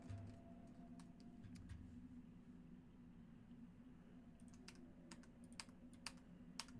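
Quick keystrokes on a low-profile computer keyboard click in scattered bursts over a steady background hum, sparse at first and then denser toward the end, fairly quiet and close.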